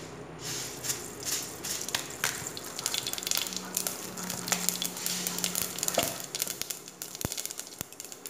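Mustard seeds spluttering in about two tablespoons of hot coconut oil in a pan, giving a steady sizzle broken by sharp pops and crackles that grow busier, with clear snaps near the end.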